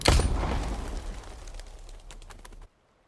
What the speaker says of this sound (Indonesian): Camly ini sambil dibantu si Fizla, dia pun mulai narik pelatuk pistolnya itu.